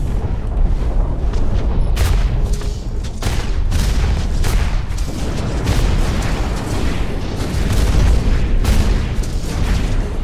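Flak cannon blasts in the mech combat game Hawken, loud repeated booms and bursts fired in quick irregular succession over a dense rumbling background, with no speech.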